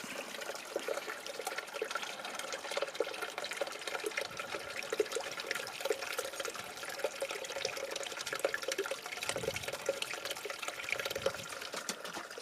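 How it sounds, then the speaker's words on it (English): Water weeps and trickles out of a rock face in a canyon, a soft continuous dribble with fine irregular drips, close and fairly quiet, with no one talking. "this is where the water's weeping out."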